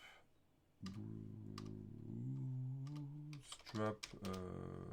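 Scattered clicks of fingers typing on a computer keyboard tick away beneath someone talking steadily close to the microphone.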